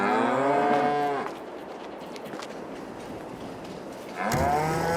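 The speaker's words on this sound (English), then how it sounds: "Don't look at that cow." A cow in Farming Simulator 22 gives two loud, close, drawn-out moos, one at the start and another near the end, with quieter farm ambience between them and no talking.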